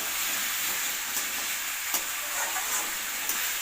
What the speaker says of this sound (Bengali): আর একবার নেড়ে দেবো ভালো করে।